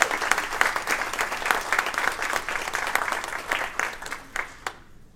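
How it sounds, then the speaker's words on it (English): Audience applause fills a room at an alumni reception, steady dense clapping from a crowd that holds for several seconds before tapering off abruptly near the end. "Let's give them a round of applause."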